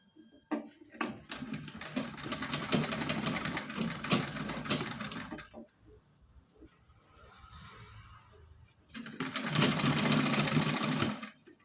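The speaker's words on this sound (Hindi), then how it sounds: "इस पे हम सिलाई लगाएंगे" A sewing machine stitches lace onto net fabric in two long runs of fast, rattling motor clatter, separated by a quieter gap of faint handling.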